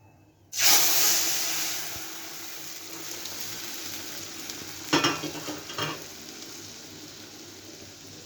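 Lentils (dal) tipped into a hot pan for a sour mango dal burst into a loud, steady sizzle right away, the hiss holding for several seconds, with a couple of sharper crackling flare-ups near the end.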